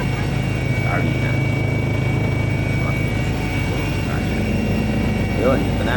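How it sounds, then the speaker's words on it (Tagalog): Helicopter in flight over Osaka, Japan, heard as a loud, steady engine and rotor roar that fills the whole clip. "So syempre it's so thrilling na makasakay ng helicopter."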